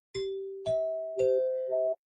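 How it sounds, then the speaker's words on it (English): Broadcast chimes from the Museum of Broadcast Communications ring out as four clear, bell-like tones in a rising sequence, each struck note sustaining into the next, loud and alone. "This is how we begin the happy half hour with these beautiful chimes."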